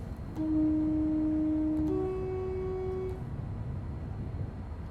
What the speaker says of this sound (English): The horn on this train actually sounds really decent